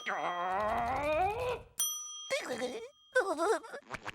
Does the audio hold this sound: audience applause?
no